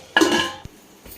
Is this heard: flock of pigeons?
no